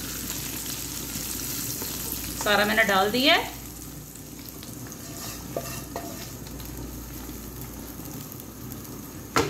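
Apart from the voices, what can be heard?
garlic tempering poured into lentils, sizzling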